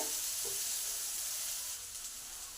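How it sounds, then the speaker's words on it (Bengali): Chopped onions fry over low-to-medium heat in a pan, a soft, steady sizzle heard faintly and close, with no talk. "পেঁয়াজগুলো সব আমার ভাজা ভাজা হয়ে এসেছে"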